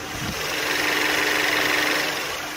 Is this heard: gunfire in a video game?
no